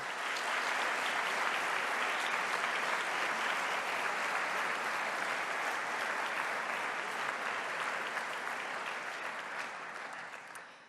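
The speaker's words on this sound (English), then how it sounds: "Graduands, please join me in a round of applause to thank all those people who've helped you along the way to reaching your goal" A large graduation audience in a university hall applauds for a long stretch. The clapping is dense and even, holds steady for about ten seconds, and then begins to fade.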